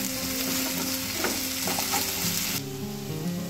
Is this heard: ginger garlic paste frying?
yes